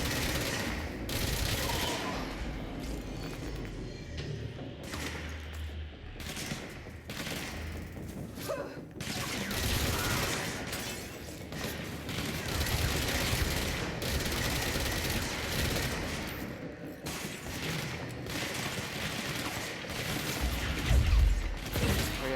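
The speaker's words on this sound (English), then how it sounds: "This one is called Spin. And it's like an SMG." Rapid automatic fire from the Spin gun form, an SMG-like sidearm in the video game Control, rattling in long bursts with mechanical clatter and occasional heavy thuds, loud and sustained throughout.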